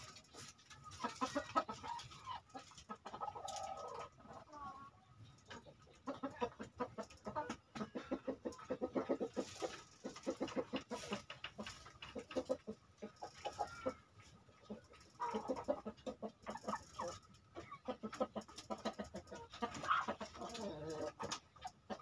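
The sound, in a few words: kampung chickens clucking after eating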